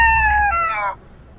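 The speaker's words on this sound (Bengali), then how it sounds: "মুরগি," A rooster at a bird market crows once, loud and close, a bright drawn-out call that fades out after about a second.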